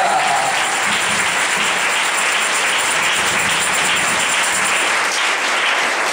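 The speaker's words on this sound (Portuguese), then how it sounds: "Ela merece uma vibrante salva de palmas." Steady, dense applause from a church community congregation in São Mamede, Paraíba, filling the space as a continuous wash of many hands clapping at once, loud and sustained with no talking.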